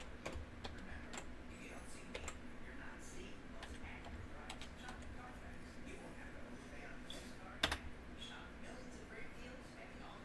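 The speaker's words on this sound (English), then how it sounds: "Let's type in notepad." Someone types in Notepad on a computer keyboard, giving faint, scattered key clicks over a steady background hum, with one sharper tap near the end.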